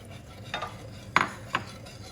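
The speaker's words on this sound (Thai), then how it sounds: "คนให้น้ำตาลละลายค่ะ" A utensil stirs sugar into Thai dessert batter (khanom luem kluen) in a pot before the gas is lit, making a few soft scraping clinks, quiet and sparse.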